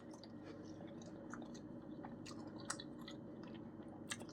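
A Panera ciabatta cheesesteak with caramelized onions is chewed close to the mic, giving soft, moist, squishy chewing with occasional small crunches over a faint background hum, with no talking.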